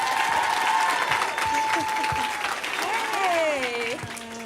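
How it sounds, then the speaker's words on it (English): A studio audience applauds as actress Rashida Jones is welcomed onto an interview show, a dense steady burst of clapping while a voice talks over it and a tonal whistle or cheer slides above. "let's give a warm hand of applause for Miss Rashida Jones."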